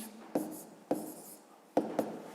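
Numbers written by hand on paper: four short, distinct pen strokes tap and scratch in an uneven rhythm, close and quiet, with no talking.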